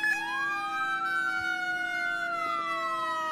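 Fire truck siren in the Roblox game ER:LC, a continuous wailing electronic tone sliding slowly downward, loud and close, with no talk over it.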